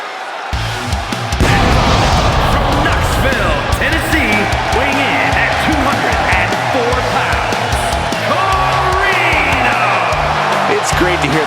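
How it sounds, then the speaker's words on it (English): In the WWE 2K25 wrestling game, an arena crowd roars for a superstar's entrance, a loud sustained wall of cheering over thumping entrance music and impacts, with commentary voices on top. "It's great to hear the crowd give this superstar the reception he deserves"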